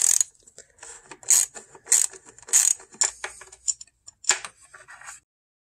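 Ratchet clicking while removing bolts from the oil filter housing on a BMW N52 engine, bright irregular metallic clicks and short ratcheting bursts, close and clear, with no talking.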